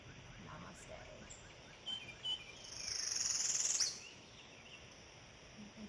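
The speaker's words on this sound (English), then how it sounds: "It's nice to hear the birds outside here." Birds sing outdoors in a quiet, open setting, with a few short chirps followed by a fast, bright trilling song of about a second, fairly faint and distant.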